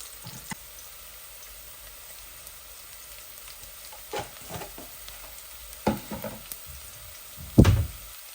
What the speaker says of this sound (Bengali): এই যে তেজপাতা রসুনগুলো আমি একটু লাল করে নেই